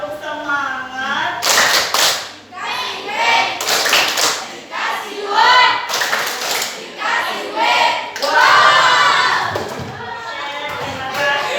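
Students in a classroom perform a rhythmic spirit clap, loud close bursts of hand claps in quick patterned groups, with shouted chanting voices between and over the beats.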